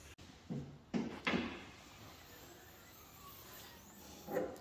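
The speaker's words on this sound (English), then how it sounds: "we'll try closing the bonnet and see if it shuts all right" Bonnet lid of a Toyota MR2 roadster being shut after gas struts were fitted, giving a few soft thuds close by over low background hiss, with a final bump near the end.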